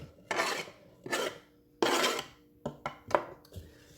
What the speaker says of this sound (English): I'm gonna put these in my bowl.